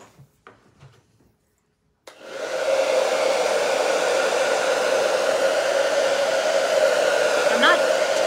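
A hair dryer switches on after a few small handling knocks and runs steadily to dry paint on a painting of Christmas greenery with red berries, a loud continuous whooshing hum held close by.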